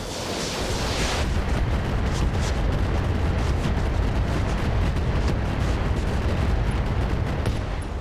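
Heavy weapon fire in the RogueTech mech game pounds a heavy AC turret, a dense, continuous barrage of booming explosions and rumbling impacts lasting throughout, loud and close with no talking.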